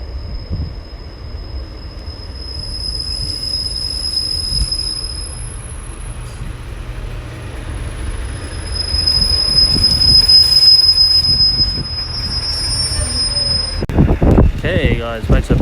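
A Class 143 diesel unit, 143612, passes on the line at Exeter St Thomas, its wheels letting out a sustained high metallic squeal over a low running rumble that swells midway, with sharper rail noises near the end.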